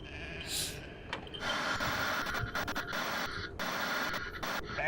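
Goat bleating rings out over a dense, loud movie-trailer soundtrack, with a short wavering cry near the start followed by continuous layered music and effects.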